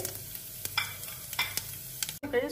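Cumin, fenugreek and a little rice frying in hot oil for a spice tempering, a steady close sizzle with light stirring scrapes and clicks throughout, alone with no talk.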